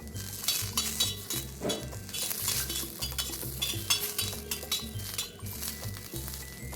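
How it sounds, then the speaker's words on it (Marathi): Coconut slices roast in a little oil in a pan while cooking chicken rassa. A spatula scrapes and clinks steadily against the metal pan over a faint sizzle, close by and without talk. "आपण खोबऱ्याचे काप भाजून घेऊया थोडंसं तेल घालायचं"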